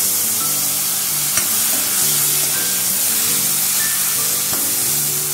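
Onions, potatoes and tomatoes fry with turmeric in a pan, producing a loud, steady sizzle with faint stirring scrapes and an occasional clink, and no one speaking.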